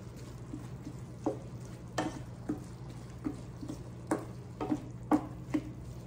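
Ground beef frying in a pan, a steady low sizzle with soft, irregular clicks and scrapes from a stirring utensil, heard close and fairly quiet.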